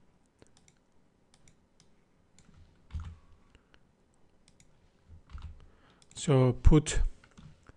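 A file path is typed on a computer keyboard in short bursts of soft close clicks, with a brief spoken phrase near the end and otherwise quiet room tone.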